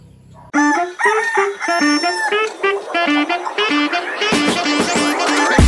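Gamefowl rooster crowing loudly and close, a series of harsh, repeated calls, with other birds and farmyard noise joining toward the end.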